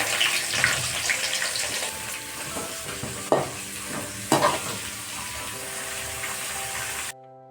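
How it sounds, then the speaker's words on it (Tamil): Onions sautéing in a pan for a Kasimedu-style prawn thokku, a steady sizzle with water-like frying noise and a couple of louder stirring clatters, running alone and close before cutting off near the end. "வெங்காயம் வதங்கணும்"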